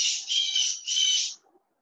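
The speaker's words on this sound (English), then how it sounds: "It's a lively bird there, Lemaire." A bird squawks lively three times in quick succession, bright and shrill, close by and fairly loud against an otherwise quiet background.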